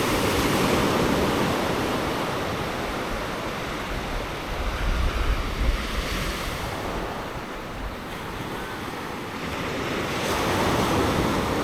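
Calm sea waves wash continuously at Canasvieiras beach under an overcast sky, a steady broadband surf roar with gentle swells and some wind buffeting on the microphone, no voices.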